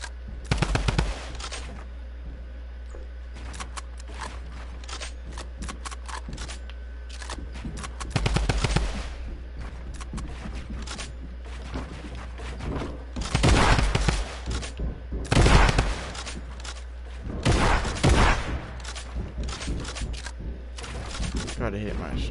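Rapid bursts of gunfire crackle through a Fortnite Creative 1v1 zone-wars arena, with loud clusters of shots separated by quieter stretches and a player talking throughout.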